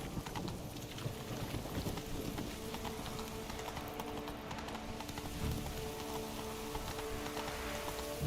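Roach, Geralt's horse in The Witcher 3, gallops with a steady clip-clop of hooves over a rain-like wash of ambient noise, continuous and moderately quiet.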